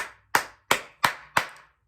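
Four loud, crisp hand claps close by, evenly spaced with a short decay after each, standing alone in a quiet room.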